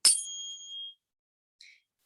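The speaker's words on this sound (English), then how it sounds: "by using this tuning fork at the beginning of 528 hertz" A 528 Hz tuning fork struck once gives a single bright metallic ring, sustaining a pure high tone that fades within a second, followed by a brief faint tap.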